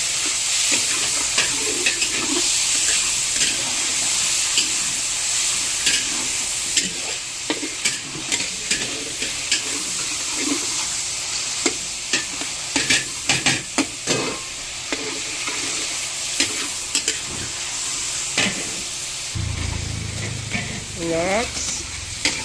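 Tomatoes sauté in hot oil in a pan, giving a loud, continuous sizzle broken by frequent scraping and stirring clicks from a utensil, with a deeper clatter near the end.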